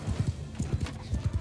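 Horse hooves clip-clopping at a steady trot in the medieval combat game Bannerlord, about ten close, regular thuds with a faint whinny-like tone overhead and no talking.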